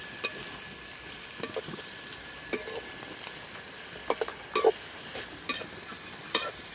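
Onions and green chillies sauté in a pan with a low, even sizzle broken by scattered sharp clicks and taps of stirring.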